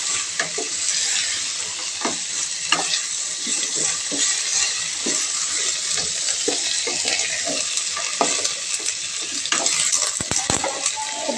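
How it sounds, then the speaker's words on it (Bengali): Mixed vegetables frying in a pan for khichuri, a steady hissing sizzle with repeated clinks and scrapes of a spatula stirring, close and continuous with no talking. "খিচুড়ির জন্য সব সবজিগুলো ভালো মতো করে ভেজে নিচ্ছি।"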